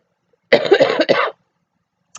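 Harsh coughing of the kind brought on by an asthma attack, two close, rasping bursts lasting under a second, then quiet.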